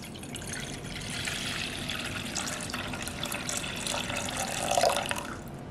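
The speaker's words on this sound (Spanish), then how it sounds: "En una ollita vamos a colocar 2 tazas de agua." Tap water pours steadily into a small pot, enough for two cups, a continuous splashing fill that swells slightly near the end, close by with no talking.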